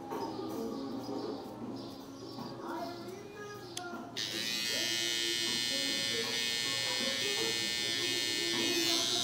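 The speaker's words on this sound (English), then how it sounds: "you're gonna come in with this clipper" An electric hair clipper trims a mustache, starting with brief touches and then buzzing steadily and close for the second half, while someone talks over it throughout.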